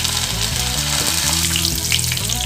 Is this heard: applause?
no